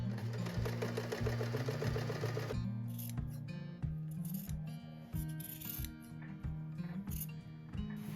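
Sewing machine running in steady stitching bursts while sewing a dress lining and shearling panel, with a brief scissor-like snip at the start, mechanical and close.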